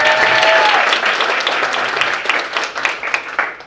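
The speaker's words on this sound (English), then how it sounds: "everyone give Father Jim Parke a big round of applause." A loud, full round of audience applause greets Father Jim Parke at a parish reunion gathering, thick and sustained at first, then gradually thinning out toward the end.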